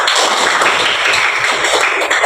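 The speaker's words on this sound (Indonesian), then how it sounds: "Tepuk tangan sekali lagi." A classroom of students clapping their hands together again, a loud close burst of dense rhythmic claps with some tapping and shuffling, no talk over it.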